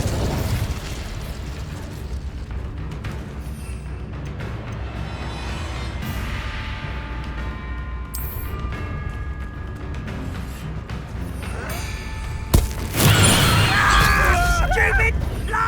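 Spell blasts in the video game Hogwarts Legacy erupt with sudden booming bursts amid clanking combat effects and game music, with a loud explosion near the end and voices speaking over the action.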